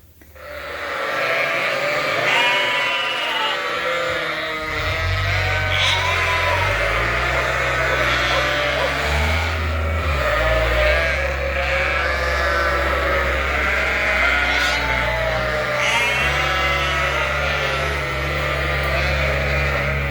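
Sheep and tall rams on a farm bleat almost constantly, with many overlapping loud calls near and far over a low steady engine-like hum.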